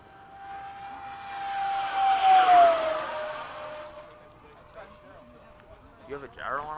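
A Freewing 70mm F-35 RC jet airplane makes a rising, whooshing ducted-fan pass that peaks midway and fades away, with people talking nearby toward the end.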